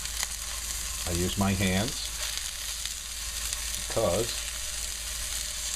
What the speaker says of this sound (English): they're sizzling up nicely, you can hear that